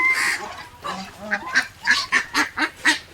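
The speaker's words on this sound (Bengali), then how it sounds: "তো আল্লাহর রহমতে হাঁস মুরগিগুলো বেশ বড় বড় হলো" Farm ducks on a local Kalaichar farm give a series of nasal honking calls, building into about six rhythmic, evenly spaced honks that sound close and clear, with no voices over them.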